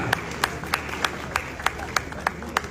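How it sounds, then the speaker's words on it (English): An audience applauds Wode Maya, with sharp, evenly spaced single claps standing out over a soft crowd murmur, as though one person claps in rhythm. "A round of applause for Wode Maya."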